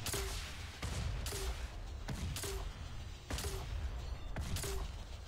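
Gunfire in The Division Mobile video game, with five sharp shots spaced about a second apart, each a sudden loud crack with a short tail, heard over a low game background and no talking.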